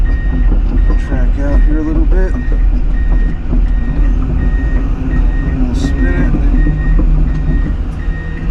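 Komatsu PC210 excavator tracking and swinging, a loud diesel rumble with clanking tracks and a repeating reversing beep nearby, close and continuous.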